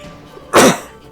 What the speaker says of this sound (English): Apologies if I'm coughing a lot right now